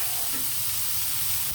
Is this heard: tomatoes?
yes